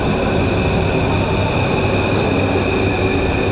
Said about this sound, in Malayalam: മെട്രോ ഇപ്പോൾ എത്തും വെയിറ്റ് ചെയ്യുന്നു ഇന്നിപ്പോൾ കയറാൻ പോകുന്നതാണ് മെട്രോ രണ്ട് വന്നിട്ടുണ്ട്